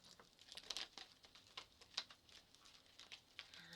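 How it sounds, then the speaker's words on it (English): A deck of tarot cards is shuffled during a reading, giving quiet, close papery patters and riffling taps in short uneven bursts at low volume. "Shuffle one more time for my fire signs."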